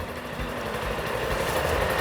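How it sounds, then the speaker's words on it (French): Steady engine drone and buzzing of scooters weaving through Paris traffic, heard from inside a quiet electric Opel Manta GSe ElektroMOD, continuous and moderately loud with no break. "Il n'y a que les scooters qui font du bruit."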